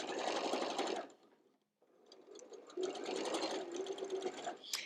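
A Juki sewing machine backstitches fabric in two loud, close bursts of rapid mechanical whirring, separated by a short silent pause as the stitching reverses direction.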